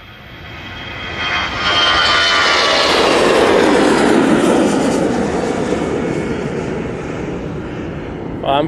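An EasyJet airliner on its take-off roll at Manchester Airport: a loud, rising jet-engine roar that builds quickly, holds for several seconds, then slowly recedes, with no talk.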